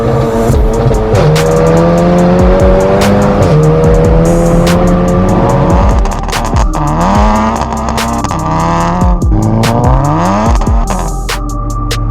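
A 420 bhp Seat Leon Cupra hot hatch cruising on the motorway, its loud engine droning continuously with rising and falling pitch through gear changes, heavy road and wind roar filling the cabin.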